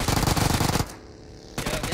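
Rapid automatic gunfire in the battle royale game BGMI, loud dense bursts that stop for about a second, then resume.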